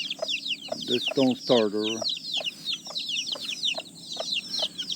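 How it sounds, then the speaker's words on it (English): A mother hen on a family farm clucks close by while her baby chicks peep steadily in the background, with a person talking over the scene. "Don't mess with Mama hen."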